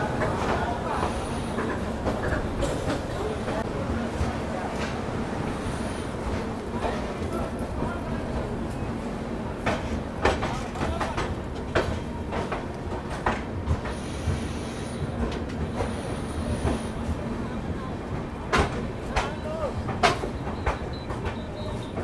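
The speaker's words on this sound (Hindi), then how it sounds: "चलिए दिखाते हैं आपको departure Patna junction railway station" A train departs Patna Junction railway station with a continuous rumble, clattering wheels and intermittent high squeals. The noise is loud and close, with steady rolling motion throughout.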